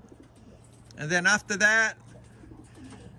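Racing pigeons in a loft give a short, close cooing burst lasting about a second, with someone talking around it.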